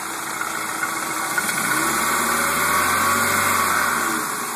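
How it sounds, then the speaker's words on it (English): A 1996 Volkswagen Jetta 2.0 four-cylinder engine with a five-speed idles steadily nearby, a low even hum with light vibration and no voices. "Sounds like a Volkswagen to me."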